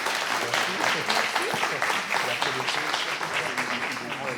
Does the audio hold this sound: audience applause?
yes